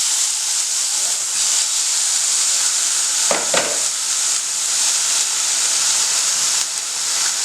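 Chopped tomato pieces drop into a hot pan for methi tomato rice, setting off a steady, loud sizzle and hiss with a brief burst of stirring or scraping midway.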